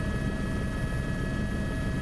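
Helicopter carrying an injured police officer on a mercy flight to Adelaide from Crystal Brook, a steady, loud, continuous rotor and engine drone with no voices.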